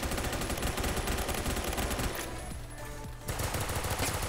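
A G18 pistol fires in full-auto bursts in Phantom Forces: rapid, loud, close rattling gunfire that pauses briefly in the middle and then resumes.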